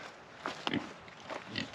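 Pigs or hogs feed on leftover fall decorating pumpkins, giving several short close grunts and snorts in a quick, uneven run with no talking.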